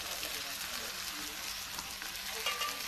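Okra frying in a pan with turmeric, a steady close hiss and sizzle that continues without a break, with faint stirring noises underneath.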